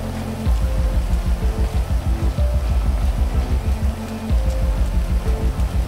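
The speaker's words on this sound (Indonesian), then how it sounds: "Ya hujan lagi teman-teman, gak apa-apa lah." Steady rain falls in the GTA 5 video game, a constant wash of noise over a repeating low rhythmic thumping, with no talk.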